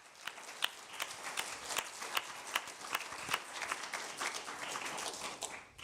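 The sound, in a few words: audience applause for panelists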